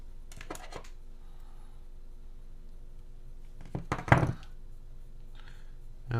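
Two sharp snips as motor wires are cut during a Shendrones Mako 5-inch drone build, one short pair of clicks early and a louder crunchy cut a few seconds later, close up with quiet pauses between.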